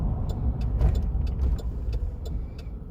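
Steady rush of a line of cars passing one after another on a small-town road in Fanning Springs, Florida, a continuous loud roar with repeated swells as each vehicle goes by, no voices.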